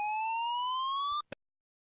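Building emergency evacuation alarm: a loud electronic tone slowly rising in pitch for just over a second, then cutting off, followed by a brief click and silence.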